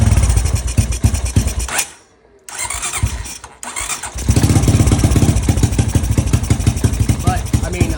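An abandoned Honda Rancher 350 ATV, its carburetor just repaired and its choke lever broken, runs loudly nearby, dips nearly silent for about a second, then picks back up into a steady, rough idle.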